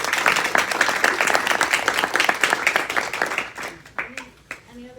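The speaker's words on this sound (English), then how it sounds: "then we can clap it up for that" Audience applause at a community forum on gun violence prevention, a dense wash of clapping that fills most of the stretch before thinning and fading out near the end.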